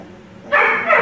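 After a brief quiet moment, an upset Weimaraner mother dog, separated from her puppies, lets out a loud, close whining bark, followed by a second yelping cry right after.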